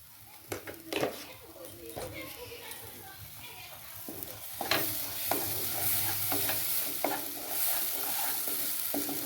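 Salted green peas are stirred in a pan to dry off their water, with a spatula scraping and knocking in irregular strokes over a building sizzle, close by, and a voice talking faintly underneath.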